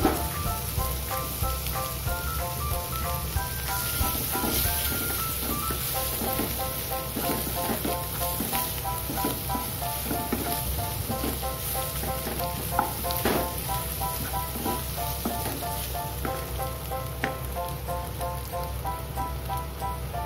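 Chopped tomatoes fry in a pan with onions and spices for a katla fish curry, giving a continuous, even, rain-like sizzle that stays close and fairly loud for the whole stretch, with no talking.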